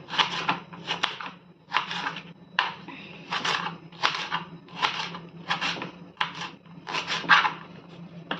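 Repeated knife cuts through dragon fruit peel chopped into small pieces, a steady series of crisp chopping strokes on a board, close and fairly loud with no talking.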